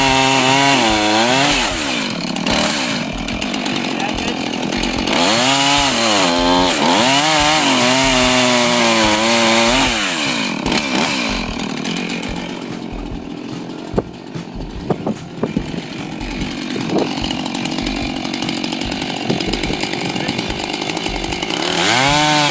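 A Husqvarna Rancher 450 chainsaw revs and bites into wood, its engine pitch rising and falling with each throttle burst, then settling into a steady, loud, close cutting drone with sharp knocks near the end.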